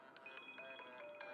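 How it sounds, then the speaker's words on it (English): A phone ringtone plays for an incoming call, a faint steady electronic tone pattern repeating under low background noise. "Gary Geller is calling."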